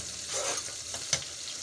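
Cumin seeds and urad dal sizzling in hot oil in a pan for paneer curry, a soft steady frying hiss with a faint clink of a utensil, no talking.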